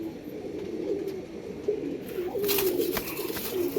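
Soft, low pigeon coos repeat in a gentle rolling rhythm nearby, over a faint background hum.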